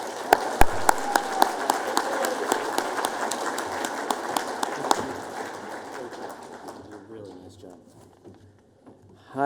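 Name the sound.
audience applause welcoming speaker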